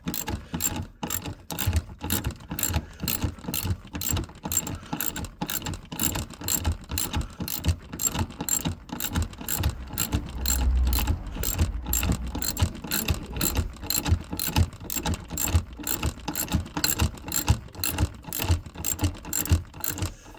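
A Mini's handbrake lever is pulled up notch by notch to lock the back wheels, producing a long run of sharp, evenly spaced ratchet clicks, close and loud, with a faint mechanical rumble underneath.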